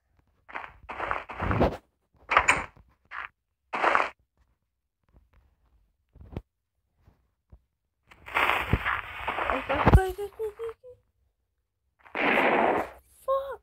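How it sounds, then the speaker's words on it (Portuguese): Sharp, punchy explosion bursts from an attack on a village in Clash of Clans pop in short clusters, separated by silence, with a longer rumbling blast and crackle in the middle. "Explosão perfeita."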